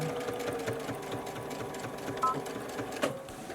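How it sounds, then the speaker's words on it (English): A sewing machine stitches fabric pieces of a simple bag together with a steady, rapid mechanical whir and needle clatter, fairly close, with a couple of small clicks near the end. "I stitch again so that it holds all those pieces down"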